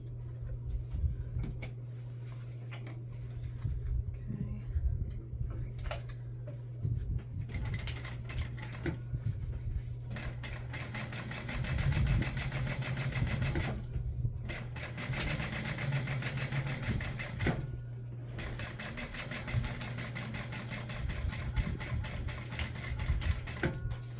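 A sewing machine top stitches a bag in long, steady runs of rapid mechanical clatter with a constant motor hum, pausing briefly between bursts, close and moderately loud.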